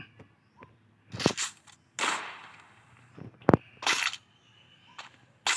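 Several sharp, loud sniper rifle gunshots in Free Fire crack at irregular intervals, each with a short burst of noise after it, with quiet gaps between.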